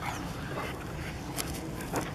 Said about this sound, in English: there's 3 dogs together. Got my puppy and his mom. They play a lot.